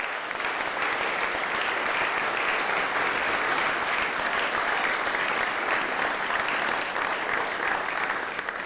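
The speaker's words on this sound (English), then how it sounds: "I wonder if I could ask you to join me for a collective round of applause for all of our wonderful students." An audience at a 2010 Weatherhead commencement ceremony gives the students sustained, dense applause, a steady wash of many hands clapping at even loudness from start to finish.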